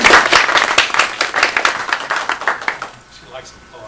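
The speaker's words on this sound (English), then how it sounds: "She likes applause. You can give her a little more." A smaller audience at an animation studio gathering claps warmly for a guest's wife, the individual claps distinct and rhythmic before fading out toward the end.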